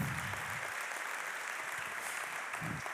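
A church congregation applauds during a sermon, a continuous, fairly faint spread of clapping from a large room, with a couple of brief low murmurs mixed in.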